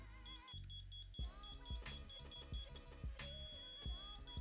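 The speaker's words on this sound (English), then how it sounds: "just listen for that audio beep. It's gonna go shit beep." A diamond tester checking moissanite-set sunglasses beeps steadily, a repeating high tone over rhythmic music, fairly loud and continuous.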